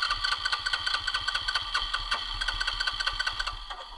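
An off-road ATV engine, stalled after mudding, is cranked to restart, a rapid rhythmic chugging pulse with sharp ticking, close and fairly quiet, sputtering without settling into a steady idle.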